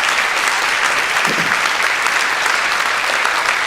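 Dense, sustained applause fills the room as a panel discussion audience claps together, a loud, even wash of many hands without pause.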